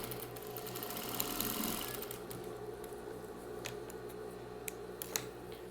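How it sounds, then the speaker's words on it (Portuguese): Sewing machine stitching fabric strips for a simple pointed-edge patchwork rug, a steady close mechanical whir with faint ticking, running alone without talk. "Desço a costura até aqui"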